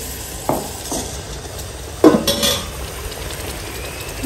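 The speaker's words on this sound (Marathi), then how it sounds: "थोडीशी ग्रेव्ही मिक्स केली मसाल्यामध्ये" A spoon scrapes and stirs gravy into spiced masala in a pan over a wood-fired chulha while cooking country chicken, giving a few soft scraping strokes over a low background hiss, with no talking.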